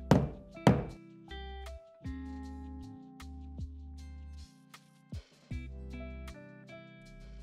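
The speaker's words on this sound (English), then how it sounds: "Now go ahead and tap them to make them flush." Smoke alarm mounting brackets get tapped flush into place, a few sharp close knocks and thunks with gaps between them, plus some lower hollow resonant tones from the handling.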